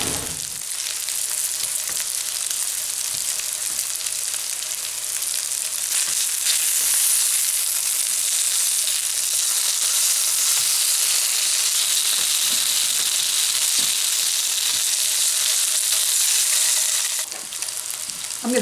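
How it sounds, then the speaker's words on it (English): Pierogies browning in a hot buttered pan give off a loud, steady sizzle and crackle that runs unbroken for most of the stretch, then fades near the end. "I'm going to put the pierogies in there. We're going to brown them a couple minutes per side."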